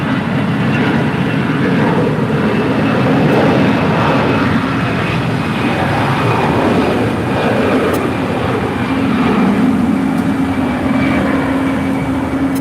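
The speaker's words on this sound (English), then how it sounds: "This is Allegiant Air 372 departing to Cincinnati on an Airbus A320" An Allegiant Air Airbus A320 taxis at LAX, its engines a loud continuous rumbling roar with a steady whine, sustained and close throughout.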